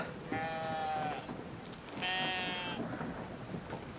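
Sheep bleat twice in the video game Brothers: A Tale of Two Sons, two drawn-out wavering cries separated by a short gap over a rumbling, rain-like game ambience.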